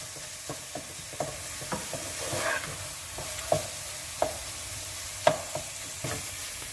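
Turnip mash fries in oil in a pan, a soft continuous sizzle broken by sharp scraping knocks of a spoon stirring and mashing at irregular intervals, close and without talk.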